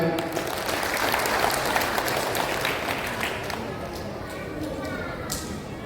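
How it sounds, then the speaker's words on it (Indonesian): Applause from a Hindu audience at a Nyepi Dharma Santi gathering, a dense continuous crowd clapping that stays loud and gradually eases over several seconds, no words spoken. "Tepuk tangan dulu."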